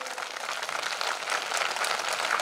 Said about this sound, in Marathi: महामानवाबद्दल जोरात टाळ्या व्हायला पाहिजे